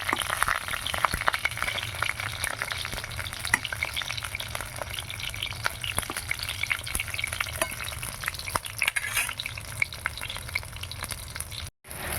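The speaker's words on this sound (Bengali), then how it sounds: "পটলগুলো ভেজে নেওয়া হয়ে গেল এবার পটলগুলো তুলে নেব" Pointed gourd (potol) fries in oil with a close, continuous crackling sizzle dotted with sharp pops, which cuts out briefly just before the end.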